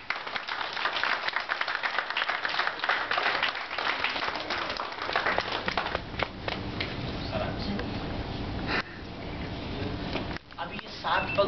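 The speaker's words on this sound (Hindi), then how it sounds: "अभी एक ताली बजाओ।" Guests at a Hindu wedding's seven-steps ceremony break into a burst of clapping that carries on for several seconds, thinning toward the end, with voices talking over it.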